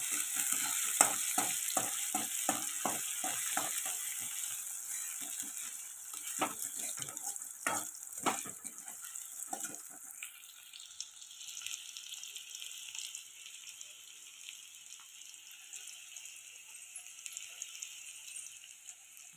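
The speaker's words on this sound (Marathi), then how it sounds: "टमाटर टाकून घेते मी। टमाटर चांगलं तळून घ्यायचं" Tomatoes frying with onion in a pan, a steady sizzle with a run of stirring scrapes and taps over the first ten seconds, then a quieter hiss alone.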